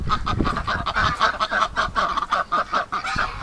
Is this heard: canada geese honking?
yes